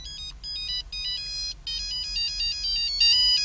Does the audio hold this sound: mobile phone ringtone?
yes